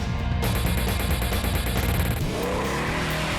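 A Dodge Challenger Six Pack muscle car engine accelerates hard, its loud, throaty roar climbing in pitch as it revs and then shifts, heard close and without talk.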